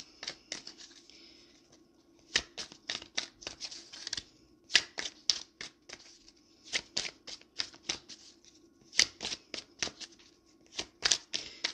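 Tarot cards are riffled and shuffled in quick flurries of crisp, papery slaps, broken by short pauses as cards are drawn, close and clear with no talking.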